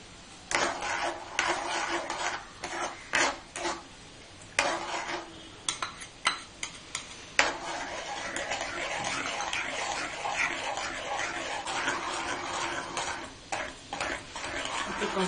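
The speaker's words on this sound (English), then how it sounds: "Keep on stirring it." A spoon scrapes and taps in a pan while mawa barfi mixture with saffron milk is stirred, irregular close clinks and scrapes in the first half, then a softer continuous rasp.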